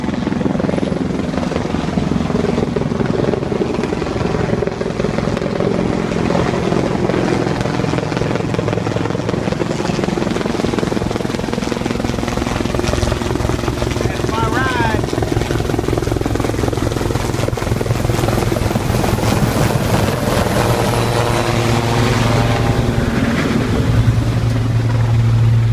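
A helicopter lands on an offshore drilling rig, its rotor and turbine roaring loud and close in a continuous, thick beating wash that holds steady for the whole stretch.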